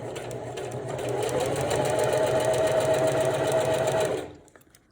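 A sewing machine stitches swim elastic in one steady, close whirring run that builds for about four seconds, then stops abruptly.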